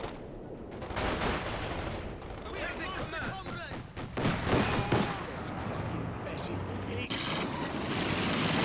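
DShK heavy machine gun firing armor-piercing rounds in Company of Heroes 2, mixed with other battlefield gunfire and vehicle rumble. Repeated bursts and crackling shots rise and fall in a busy, loud mix while a commentator talks throughout.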